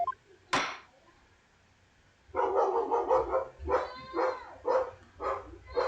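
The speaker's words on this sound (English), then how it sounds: "Again, sorry if you hear dogs in the background." Dogs bark in the background of a room: one sharp, loud bark, a pause, then a run of quicker barks and yips at moderate distance.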